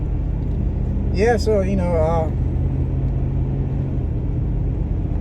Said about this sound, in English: Just testing out the truck.